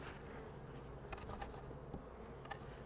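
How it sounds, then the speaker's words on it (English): Honey bees in a freshly made hive split give off a steady, close insect hum, with a few sharper buzzes as individual bees pass near, and no talking. "there's quite a few bees in here for a split"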